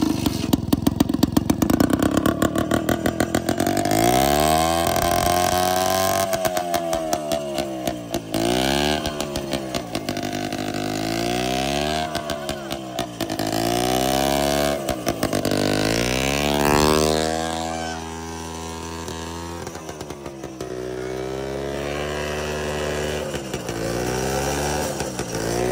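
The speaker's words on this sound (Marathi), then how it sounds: "आता माऊली इकडे पुन्हा एकदा ट्रॅक्टर चालू करतोय." A tractor engine runs loud and steady while straining to pull a stuck Mahindra Thar out of a field, its pitch rising and falling repeatedly with load, continuous and close throughout.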